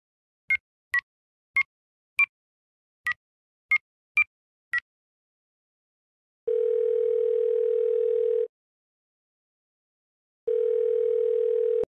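A phone call being placed: eight short keypad dial beeps in quick succession, followed by two long, steady ringback tones separated by a pause, clear and alone with no talk.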